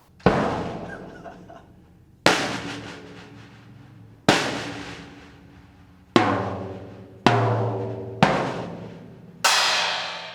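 A cheap Gammon Percussion drum kit is struck six times, each hit a loud separate thud that rings out with a long, flabby, loose-sounding resonance before the next.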